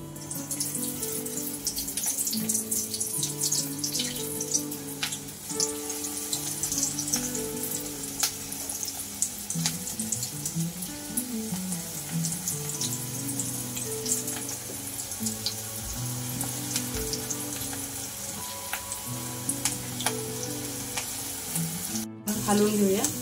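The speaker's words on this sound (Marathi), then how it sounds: "तेल गरम झाल्यानंतर आपण कोबीचे मंचुरियन व्हेज तळून घेऊया।" Cabbage veg Manchurian balls frying in hot oil, giving a steady close sizzle throughout with a few stirring knocks over a constant tonal hum.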